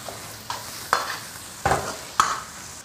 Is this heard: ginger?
yes